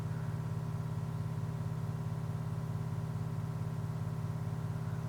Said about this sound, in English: Sorry if you can hear a noise in the background, it's just my washing machine